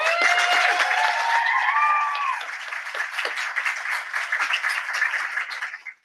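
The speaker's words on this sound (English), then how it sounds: "if we give them a round of applause" Audience applause after a call to thank the advanced academics staff at a GTEAC meeting: dense, sustained clapping from a room full of people, loud for about two seconds and then tapering in a steady wash until it fades out at the end.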